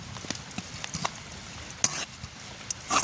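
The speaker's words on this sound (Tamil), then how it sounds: "அப்படியே நல்ல வடிவாக அப்படி கிண்டுவோம்" Fish with lime stirred in a frying pan: a low sizzle under scattered scraping and clinking strokes, with a couple of sharper metallic clicks near the end, close and fairly quiet, no talking.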